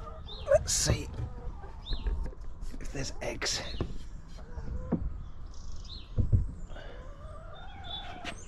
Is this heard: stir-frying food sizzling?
no